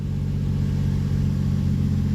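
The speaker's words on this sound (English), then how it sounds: "if I just slightly apply the throttle, yeah, it looks pretty sick." A car engine with a newly installed boost gauge runs close by in a steady, loud low rumble as the throttle is lightly applied, no voices.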